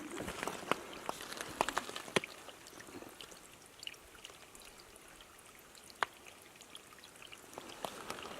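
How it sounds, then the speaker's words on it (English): Water trickles and splashes steadily in a desert canyon, with scattered drips and small bright plinks over a constant wash of flowing sound, no voices. "Running water."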